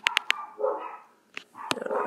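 Several sharp dog barks heard in the background of a home room, a quick burst of three yips followed by louder single barks and some whining, with no talking.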